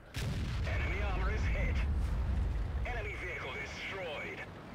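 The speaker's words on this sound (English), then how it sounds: "That is the normal sound for one of the biggest guns in the entire game." One of the biggest guns in a video game firing with its unmodded sound: a heavy, booming report at the start that rolls on with rumbling echo, while someone talks over it.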